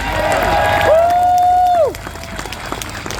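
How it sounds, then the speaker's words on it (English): At a 2025 SDP election rally in Yew Tee, Singapore, a crowd cheers and claps beneath a loud, sustained horn-like tone that cuts off sharply, leaving lighter crowd noise. "Once again, round of applause, please."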